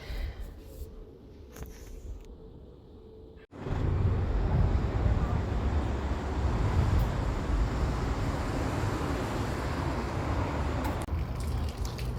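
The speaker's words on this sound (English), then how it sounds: "Okay, we've arrived at the car wash." A self-service car wash wand sprays water onto a Dongfeng Box electric car. A quieter stretch gives way to a loud, steady, broadband rush of spray that continues without a break to the end.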